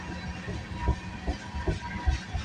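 CN freight train passing close by, a steady rumbling roll with rhythmic wheel thumps and a faint hiss, no voices.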